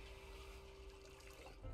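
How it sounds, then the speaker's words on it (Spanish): A bottle being filled from a tap in the Project Zomboid video game: a short, steady rush of running water, close and continuous, ending with a slight gurgle. "llenar botella con agua"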